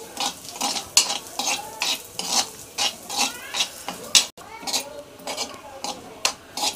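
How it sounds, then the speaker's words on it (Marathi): Mustard dal dry-roasting in a pan, stirred with a spoon in a steady rhythm of scraping and rattling strokes, close and fairly loud. "तर आता ही मी राईची डाळ आहे ना, ती भाजून घेते."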